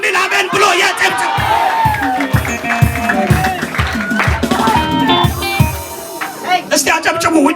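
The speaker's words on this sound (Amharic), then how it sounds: "እስቲ አጨብጭቡ።" A church congregation claps and cheers loudly, dense rhythmic clapping mixed with shouts and whoops, close and sustained across the whole stretch.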